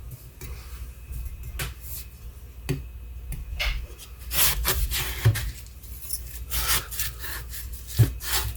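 A knife trims the edges off food on a cutting board, giving repeated scraping, rasping strokes with occasional sharp knocks, close and moderately loud.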